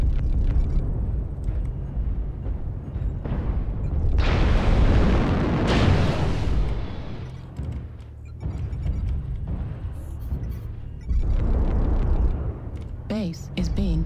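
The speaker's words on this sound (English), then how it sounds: "Airstrike activated." Airstrike explosions in MechWarrior Online, a heavy rumbling barrage of booms that swells over several seconds amid constant battle noise, with a voice speaking in places.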